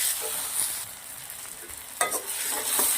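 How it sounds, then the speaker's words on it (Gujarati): Onion and tomato sizzle steadily in a hot pan while a spoon stirs and scrapes through them, with a few sharper scraping bursts near the end; no voices. "એને પણ આપણે બે મિનિટ સુધી શેકી લઈશું"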